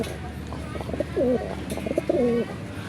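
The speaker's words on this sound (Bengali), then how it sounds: "এটা হচ্ছে মাদি কবুতর, আর এটা নর কবুতর" Large red-and-white Gopalganj pigeons coo close by, two distinct drawn-out rolling coos over a faint background murmur, with soft rustling and small noises between calls.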